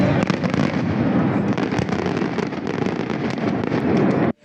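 New Year fireworks over Trieste crackle and pop continuously in a dense, loud barrage of rapid bursts, ending abruptly.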